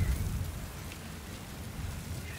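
Storm rain in Metal Gear Solid V comes down as a steady, dense patter with a low rumble underneath, continuous and moderately quiet throughout.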